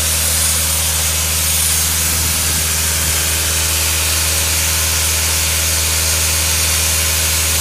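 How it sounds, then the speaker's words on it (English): A 2012 Atlas Copco XAS185 portable air compressor powered by a John Deere diesel runs steadily at idle, a loud, constant low engine drone with a rough mechanical rattle throughout and no talking. "There's a demo on the Atlas COPCO XAS185 air compressor, guys, with the John Deere diesel motor"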